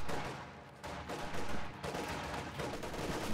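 Rapid gunfire crackles continuously in a World War II real-time strategy game battle, steady dense bursts with swelling intensity and no voices over it.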